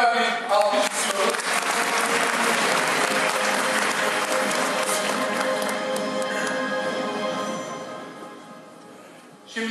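Audience at an Ottoman Turkish script competition final applauding the jury, with sustained, loud clapping that fades near the end before a brief final burst.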